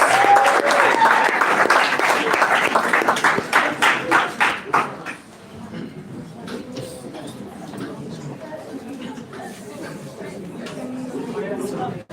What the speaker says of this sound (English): A round of applause, guys.